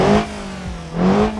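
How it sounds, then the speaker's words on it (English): A turbocharged 2-litre four-cylinder petrol engine in a base-model Volvo V60 with a custom exhaust, racing-game simulation, revs up and down in two short surges, loud and close, with no one talking. "Slightly custom exhaust sound, I think, but this base model produces 160 horsepower."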